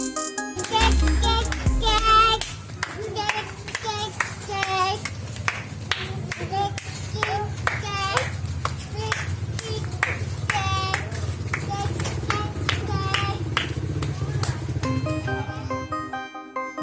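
Hands clapping along during children's barongsai (lion dance) play, quick rhythmic claps repeated steadily over a low drone with a voice and speech mixed in.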